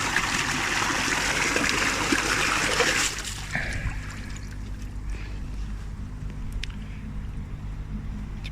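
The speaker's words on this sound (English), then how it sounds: "So I'm going to open this 4-inch ball valve full and see what rubbish comes out." Pond water rushes from a fully opened 4-inch ball valve into a bucket, a loud, close gush for about three seconds that drops to a quieter trickle over a low hum.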